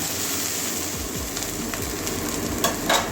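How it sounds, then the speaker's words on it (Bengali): Onions sizzle and crackle steadily in hot oil, with a couple of soft stirring scrapes near the end. "পেঁয়াজটা ভাজা হয়ে গেছে"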